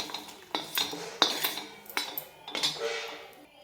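Fresh masala spices and chillies being roasted in a pan, heard as repeated metal spatula scrapes and clinks against the pan in an irregular rhythm, close and clear with no talk.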